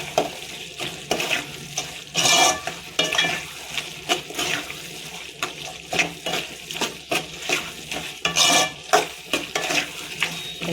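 Mutton is stirred in a pan with home-ground turmeric, chili powder and other masalas, giving soft, repeated scraping and wet mixing strokes with a faint sizzle, fairly close and without talk.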